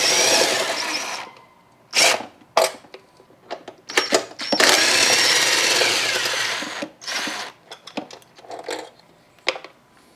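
Bolts on a Honda Dax 125 are worked loose with an M10 socket, giving bursts of close mechanical whirring and ratcheting separated by short pauses, with one long sustained run near the middle.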